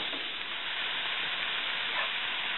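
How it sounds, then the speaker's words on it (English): Onion and garlic sauté in melted butter in a pan, giving a steady, close sizzle and hiss that runs evenly throughout with no voices over it. "now just listen to that sizzle"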